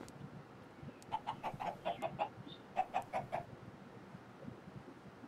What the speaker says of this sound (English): See a lot of chickens.